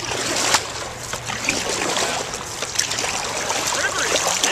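Canoe paddles dipping and splashing on a wide river, irregular close splashes and trickling water over a low boat rumble, with a few sharper paddle strokes.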